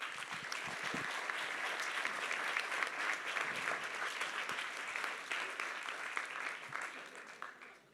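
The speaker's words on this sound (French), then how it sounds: "Vous pouvez l'applaudir." An audience at a feminist political gathering claps steadily for several seconds, a dense, even applause that holds at a moderate level and tapers off slightly at the close.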